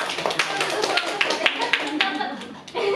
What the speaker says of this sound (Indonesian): tepuk tangan buat Nustu dan Reza.